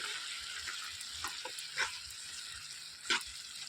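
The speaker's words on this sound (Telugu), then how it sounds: "ఒకసారి కలిపేసుకోవాలండి." Ridge gourd curry being stirred with salt in a pan, a soft steady sizzle with a few faint scraping and clinking touches of the spoon, quiet and close.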